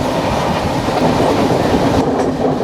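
Riding aboard the 12258 Garib Rath Express from Kochuveli to Thrissur, a loud, steady rumble of the moving coach with rhythmic wheel clatter on the rails, no talking.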